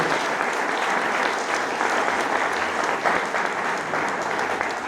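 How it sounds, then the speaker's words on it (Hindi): Audience applause for women at an address by India's Minister of State for Finance to women entrepreneurs on the Union Budget; dense, steady clapping from a large crowd throughout, with no speech. "जोरदार तालियां हमारी महिला बहनों के लिए।"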